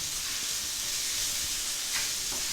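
A thin pork chop sears in a hot pan. A steady, close hiss of frying fills the whole stretch, with a brief louder crackle partway through.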